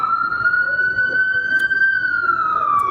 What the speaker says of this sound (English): Let's let this ambulance pass by.